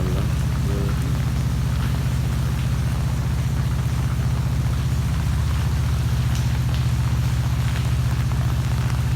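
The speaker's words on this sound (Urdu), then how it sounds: "ماشاءاللہ کافی بارش ہو رہی ہے، تو آسمان پر بادل بھی کافی ہیں ماشاءاللہ۔" Heavy rain pours steadily on surfaces at a camp in Makkah, a dense, continuous loud hiss with a deep rumble beneath it, unbroken throughout.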